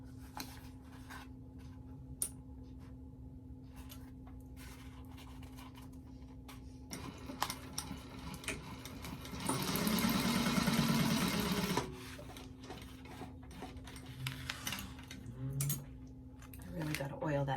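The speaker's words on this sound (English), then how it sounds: "And then we're sewing that with a 1/4 inch seam allowance." A sewing machine stitches Peltex stiffener for a bag with a quarter-inch seam, a short, dense burst of rapid mechanical whirring that stops abruptly, with light handling clicks before and after.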